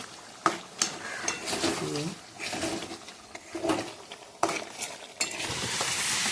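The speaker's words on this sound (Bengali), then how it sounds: "এবার একটু নাড়াচাড়া দিয়ে সুন্দর করে ভেজে নেব।" Pointed gourd fries in hot oil in a half-filled wok, the sizzle running under spatula stirs and scrapes against the pan while someone talks.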